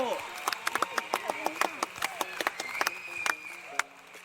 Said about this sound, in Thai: ปรบมือครับทุกคน บราโว